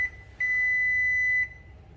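A multimeter's continuity buzzer gives one steady, clear beep lasting about a second as a bridge rectifier on a DC inverter board is tested, with a faint hum underneath.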